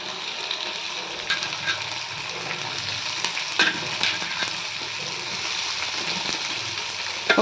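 Curry leaves and onions frying in a pan for an old-style fenugreek and tamarind curry, a steady close crackling sizzle with occasional light clinks and stirs throughout, no talking.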